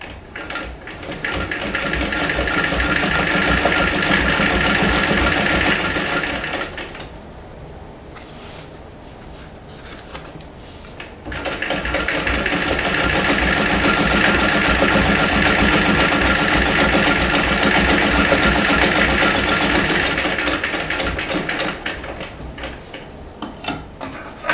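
A vintage Singer 206K sewing machine stitching denim, a loud, close, rapid mechanical whir running steadily, pausing briefly to a quieter hum, then resuming at full speed without talk.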